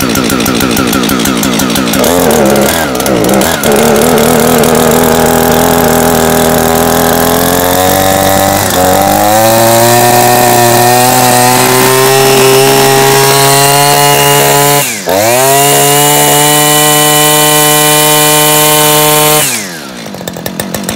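Husqvarna 555 RXT petrol brushcutter engine running close and loud, starting with uneven, wavering revs that settle into a smooth steady high whine, dipping briefly once before revving again and cutting off at the end.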